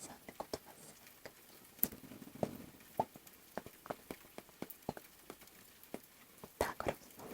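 Rain falling outside during a rainy spell, heard as scattered soft drips and taps at an irregular pace over a faint steady hiss, quiet and close, with no voices.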